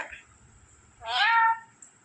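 A parrot mimics a cat's meow once, a bright, wavering call about half a second long after a brief squeak, with quiet background otherwise.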